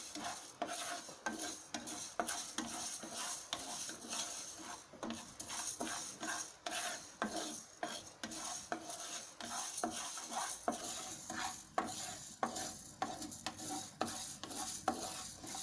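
Sambar powder ingredients dry roasted in a pan without oil, a spoon stirring and scraping continuously in quick repeated strokes, close but fairly quiet, with a light dry rattle and faint sizzle underneath.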